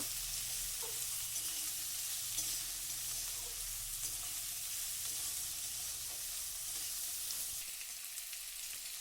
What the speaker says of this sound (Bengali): মটরশুঁটিটা দিয়ে দিলাম দিয়ে সব কিছু একসাথে নাড়াচাড়া করব